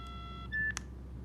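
A Nokia 9210i Communicator gives a short electronic dialing tone as a call is placed, one clear steady beep followed by a brief click, faint and alone over low background hum.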